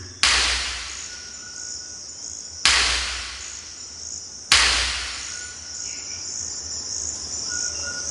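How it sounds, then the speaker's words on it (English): Three sharp cracking pops of ripe rubber tree seed pods bursting in flooded Amazon forest, spaced a couple of seconds apart, each with a short ringing decay over a steady background of insect chirring. "These exploding nuts are from rubber trees"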